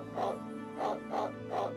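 A bulldog barks four times at an even pace in the Okami HD video game: clear, close, evenly spaced woofs against a steady game background hum.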